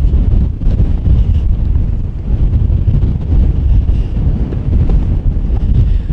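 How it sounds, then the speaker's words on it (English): Cold wind buffets the microphone on an exposed Iron Age hill fort at Burrough, a loud, continuous roaring rumble with gusty swells throughout and no voices. "that wind is very, very cold"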